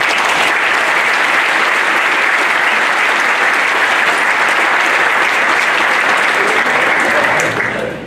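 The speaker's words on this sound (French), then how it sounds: "on peut encore applaudir" Loud, close applause from a crowd at a municipal speech, continuous and dense for about eight seconds before tailing off abruptly.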